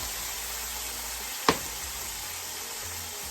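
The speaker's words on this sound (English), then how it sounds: "Now I'm gonna add this fried paneer." Fried paneer goes into a hot pan with soy sauce in a chilli paneer dish, a continuous close sizzle with one sharp clatter partway through.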